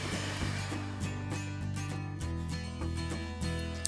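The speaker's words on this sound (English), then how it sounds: "So right now I'll be mixing it with the mixer." An electric mixer whirs while mixing an Oreo ice cream mixture, a steady motor hum with pulsing, rhythmic surges and faint rattles from the bowl, heard alone without talk.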